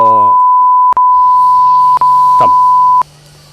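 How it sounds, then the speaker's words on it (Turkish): Three loud, steady censor beeps, each about a second long with tiny gaps between them, form one continuous high tone that stops abruptly, leaving a faint low hum behind. "buraya bip koyayım ve video böyle kapansın"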